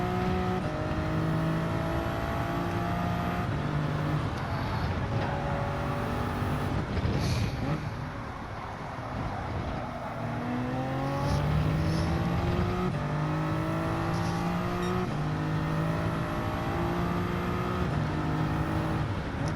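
A race car in a racing video game brakes and downshifts to fourth gear. A sustained engine drone drops in pitch midway, then climbs back into a steady, buzzing harmonic whine with no voices.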